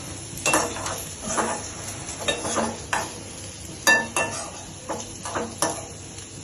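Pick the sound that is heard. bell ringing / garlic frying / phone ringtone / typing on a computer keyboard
garlic frying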